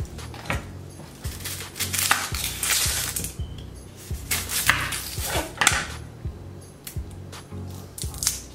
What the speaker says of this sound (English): one lime. So we're gonna cut it in half, throw it in there.